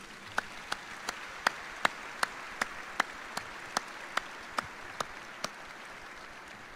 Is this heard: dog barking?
no